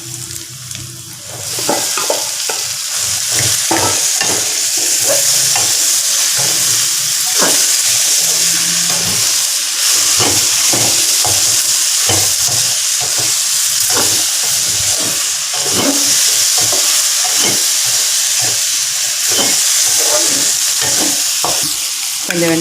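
Sliced okra stir-fries in a hot pan with turmeric, cumin and fennel powder, onion and salt, giving a loud, continuous sizzle broken by repeated scraping stirs throughout, with no talking.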